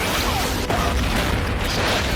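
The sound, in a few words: explosion in the movie Deep Blue Sea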